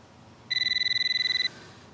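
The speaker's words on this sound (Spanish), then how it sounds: "El teléfono." An electronic telephone ringer trills in a single one-second burst of rapid pulsing tones, clear and fairly close against a quiet room background.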